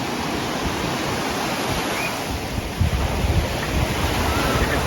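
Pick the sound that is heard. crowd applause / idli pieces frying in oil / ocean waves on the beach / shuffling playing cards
ocean waves on the beach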